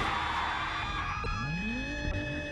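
A car in BeamNG.drive braking hard with tires squealing and skidding, a loud sustained screech with falling engine tones, close and alone without talk.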